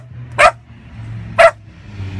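A small abandoned dog shut inside a car gives two short, sharp barks about a second apart, close and clear over a low background hum.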